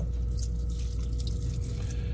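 Water drips and trickles as dialysis tubing is wetted in a lab osmosis demonstration, a faint close liquid patter over a steady low hum, with no talking.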